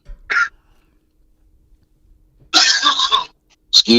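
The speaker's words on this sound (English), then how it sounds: "I've been fighting the cough for like a month now" A person coughs in loud, close bursts: one short cough, a pause, then a longer rough hacking cough and another quick cough, from someone fighting a lingering month-long cough.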